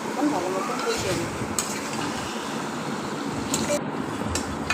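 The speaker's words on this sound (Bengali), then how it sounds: "মশলা দিয়ে মাখানো মাংসটা পেঁয়াজ দিয়ে দেওয়া হয়েছে, এখন ভালো মতন কষিয়ে নেব।" Spice-coated goat meat and onions are stir-fried in a pan, a close, steady sizzle with spoon scraping and stirring. A voice can be heard faintly underneath.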